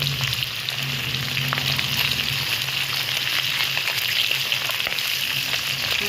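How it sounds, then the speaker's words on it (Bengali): Fish heads fry in hot oil with garlic, a steady loud sizzle with faint stirring, crackling on without pause. "মাছের মুড়োগুলোকে ভালোভাবে লাল লাল করে কড়া কড়া করে ভেজে"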